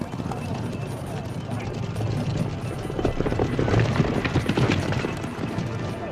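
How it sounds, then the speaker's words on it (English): Hooves clip-clop in a steady trotting rhythm beneath a constant rumbling roar, with voices in the background. "the horses don't gallop but trot"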